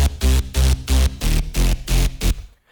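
A crunchy, distorted synth bass for happy hardcore, pushed toward the highs, pumps in a steady rhythm of short loud hits under chords, about nine pulses, then cuts off.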